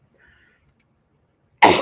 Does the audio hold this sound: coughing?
yes